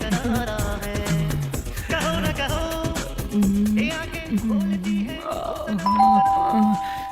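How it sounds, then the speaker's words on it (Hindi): A doorbell chimes over loud music with singing, the ding-dong tones ringing out near the end. "बीच में आके कौन घंटी बजा रहा है?"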